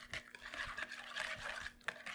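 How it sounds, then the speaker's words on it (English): A whisk scrapes and clicks quickly around a bowl of melted cream cheese, light rhythmic strokes close by and fairly quiet. "I'm just gonna give this a nice whisk before we add the rest of our wet ingredients"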